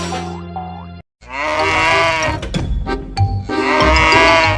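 A toy cow gives a loud, drawn-out moo, followed by a second moo after a brief gap and some clattery handling sounds, with no talking over it.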